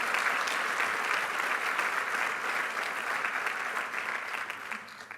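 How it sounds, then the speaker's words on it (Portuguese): An audience at a formal inauguration ceremony applauds health professionals in Portugal, steady sustained clapping from a large room crowd, moderately distant, fading slightly toward the end. "Peço um aplauso aos profissionais de saúde de Portugal."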